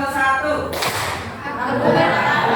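A classroom of students claps hands once in unison, a sharp, sudden burst partway through, with murmured voices and room noise before and after.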